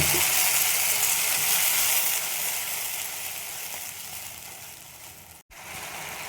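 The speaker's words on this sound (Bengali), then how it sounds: "পেঁয়াজটা ভাজা হয়ে গেছে, যে মশলাটা করলাম সেটা আমি দিয়ে দেব" Continuous close sizzling from a hot pan of fried onions and spice paste, loud at first and easing slightly, broken by one brief dropout near the end.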